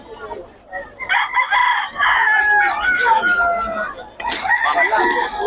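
A stag gamecock crows loudly and nearby, two drawn-out crowing calls with a short break between them, while people talk in the background.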